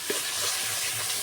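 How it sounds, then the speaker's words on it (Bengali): Banana flower curry with turmeric, salt and cumin powder gets stirred in a hot pan, giving a dense continuous sizzle with a faint spoon tap near the start. "এবার ভালো করে নেড়ে চেড়ে দেবো।"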